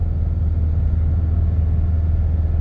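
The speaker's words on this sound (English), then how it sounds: "It's just letting off, we get that little growl." A Subaru 2.5RS on the road gives a low, steady transmission growl as the throttle is let off, a continuous deep rumble with no pauses.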